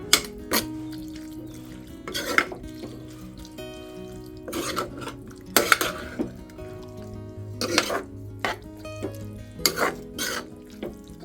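Shellfish from a mangrove creek being stirred with a spoonful of salt in a metal pot, giving repeated scraping, clattering bursts every couple of seconds over a low steady background, close and fairly loud, with no talking.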